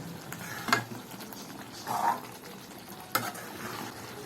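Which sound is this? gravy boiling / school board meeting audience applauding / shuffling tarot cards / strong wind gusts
gravy boiling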